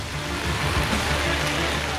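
Rain falls on a city street where junior doctors are staging a protest, a dense, even hiss that holds steady for the whole moment without any voices.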